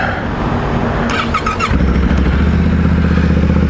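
A Yamaha Ténéré 700 World Raid adventure motorcycle engine cranks and fires up, then settles into a steady, close idle with a low throbbing rumble.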